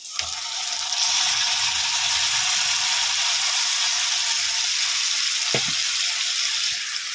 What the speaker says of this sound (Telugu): ఇక్కడైతే కట్ చేసుకున్న ఈ టమాటా ముక్కలు అయితే వేస్తున్నాను